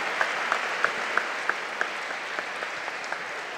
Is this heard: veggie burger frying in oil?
no